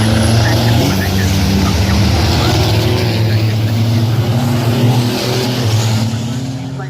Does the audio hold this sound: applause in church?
no